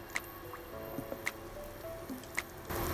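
Aloo tikkis going into a shallow layer of hot oil for frying: a few soft, wet squishes and light clicks spaced over a few seconds, fairly quiet, with no voice.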